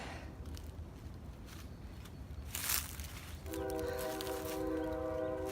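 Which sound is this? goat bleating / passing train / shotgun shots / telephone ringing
passing train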